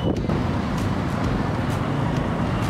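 Dense rush-hour road traffic with a bus running along the roadside, a steady broadband engine and tyre roar heard from inside a moving vehicle, with wind buffeting and no voices.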